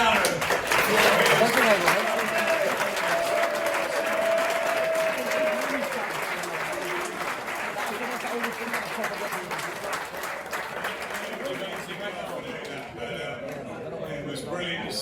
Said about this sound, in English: can we please just give a big round of applause to Dave Allen?